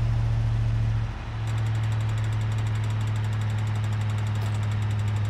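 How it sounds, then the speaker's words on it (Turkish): Sprinter van engine in BeamNG.drive labouring under a heavy load of about 2.5 tons, a steady loud low droning knock that briefly dips and then carries on without pause, with no talk over it. "Motor sesi duyuyorsunuz mu?"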